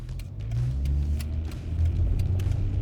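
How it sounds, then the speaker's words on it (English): A car engine, just switched from race and extreme drive modes back to normal, revs as the gas pedal is tapped, a close, steady low rumble that swells and eases in mild surges. "I'm tapping the gas"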